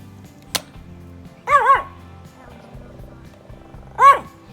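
A dog barks twice, a few seconds apart, fairly close. A sharp thump comes before the first bark, with a low steady hum underneath.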